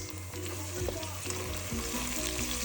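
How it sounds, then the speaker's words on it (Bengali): Garlic and panch phoron crackle in hot oil for a sweet bori pickle, a close, continuous sizzle with small spattering pops, no voices over it. "রসুন আর পাঁচফোড়নটা দিয়ে দিলাম।"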